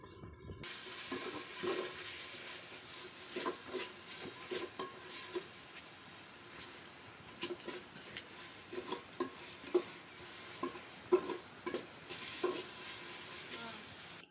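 Ginger garlic paste with coriander and mint frying in a pan, a soft continuous sizzle broken by repeated scraping stirs of a spoon against the pan, no talking.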